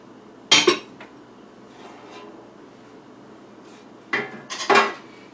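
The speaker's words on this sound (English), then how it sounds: "I'll just scrape my mixing paddle" A spatula scrapes batter from a mixing paddle against a bowl in a kitchen, giving two short clattering bursts of utensil on metal separated by quiet, with faint lighter taps between.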